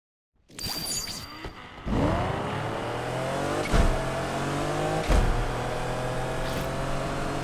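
In-game car engine from Need for Speed Unbound revving up and accelerating hard, loud and close, with rising harmonic whine, sharp gear-shift dips and surges, and continuous road roar throughout.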